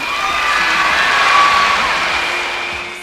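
A concert audience cheering and applauding for a singer, a dense, loud crowd roar that swells and then fades slightly over a few seconds, with no talk.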